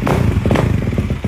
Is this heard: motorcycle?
yes